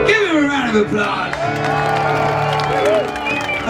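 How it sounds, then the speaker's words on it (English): Festival crowd at Glastonbury 2025 applauding and cheering after a song, a dense, loud wash of clapping with whoops and shouts throughout, steady and close. "Applause."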